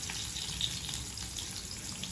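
Chopped onion hits hot oil seasoned with asafoetida in a pan, giving a steady, soft, even sizzle throughout with no talking.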